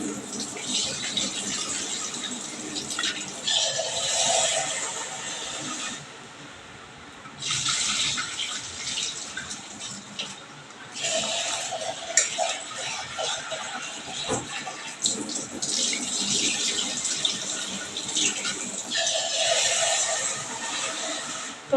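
Tap water runs and splashes close by as red lentils are washed in a home kitchen, with the flow gushing in several long bursts and short pauses between them. No one speaks over the water.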